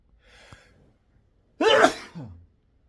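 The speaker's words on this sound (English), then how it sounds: "gonna sneeze." A single sharp sneeze bursts out after a soft breath in, followed by a brief trailing exhale, close and fairly loud in a quiet space.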